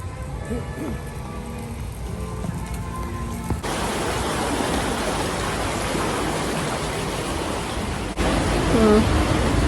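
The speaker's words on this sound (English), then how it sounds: "Get the rushing waters, but still no waterfall." Rushing water at EPCOT theme park, a broad steady hiss that swells in after a quieter stretch and grows louder again near the end, close and continuous.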